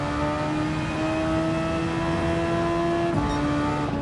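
Formula 1 race car in Gran Turismo 7 accelerating out of a turn, its engine a steady high-pitched whine holding a sustained rising tone, with a brief gear-change dip near the end.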